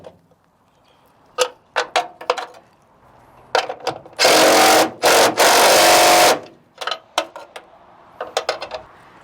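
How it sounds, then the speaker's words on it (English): A half-inch bolt being tightened with a box wrench while a Lund bed extender is fitted to a GMC Sierra or Chevy Silverado pickup: sharp metallic ratcheting clicks in short bursts, plus a loud sustained grinding stretch in the middle. "I'm going to go ahead and tighten from the outside."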